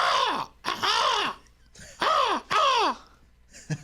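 A man imitates a crow's caw with his voice, giving four loud, close, harsh descending calls in two pairs, with brief pauses between them on a radio show.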